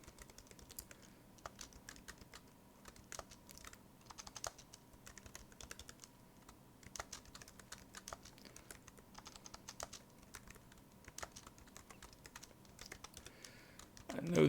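A computer keyboard is typed on steadily at close range, with rapid quiet clicks in uneven bursts and a louder noise right at the end.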